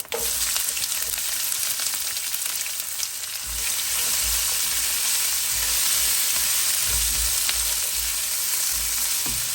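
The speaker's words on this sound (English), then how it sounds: "That's splattering away nicely. So to that, I'll add in my curry leaf and my onion." Curry leaves and onion fry in hot, splattering oil, a loud continuous close sizzle and crackle with a low stirring rumble underneath, no talk.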